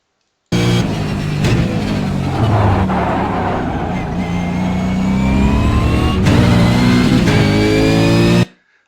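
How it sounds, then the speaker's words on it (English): Race car engine in a video game labouring in second gear, droning and straining, with the revs climbing unevenly and short shifts between. The sound is loud and continuous and comes through without speech. "I bogged down in second gear and had to get it down into first."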